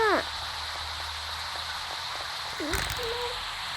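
Rain falls in Sakura School Simulator as a steady, even hiss of drops on surfaces, with brief voice-like sounds at the start and again near the end.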